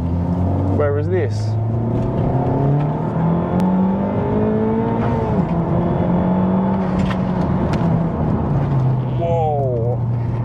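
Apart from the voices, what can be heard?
Honda Civic Type R FK8 engine revving while driving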